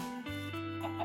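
Chickens hatching from eggs in Minecraft Bedrock: a brief, tonal, clucking chirp from a game chicken, close and clear, lasting about a second.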